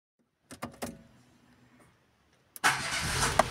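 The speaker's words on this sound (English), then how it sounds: "After this, try starting the car." A car engine is started after its battery has been recharged at home: a few clicks and brief cranking sounds, a pause, then the engine catches and runs as a loud, steady rumble.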